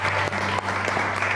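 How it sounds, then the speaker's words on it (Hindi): A studio audience on an entertainment show claps in a steady, dense burst of applause that carries through the short moment, fairly close and even, with no speech over it. "दोनों के लिए बहुत सारी तालियां"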